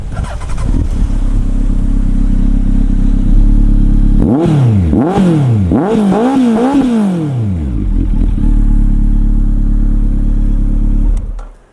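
A loud 2006 Honda CB1300 motorcycle with an aftermarket exhaust drones steadily, then revs hard several times in quick rising-and-falling bursts before settling back to a throaty idle.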